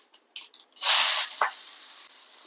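Onion dropped into hot oil with mustard seeds and urad dal, a sudden loud sizzling burst that settles into a steady softer crackle, with a brief stir scrape, preceded by small quiet taps.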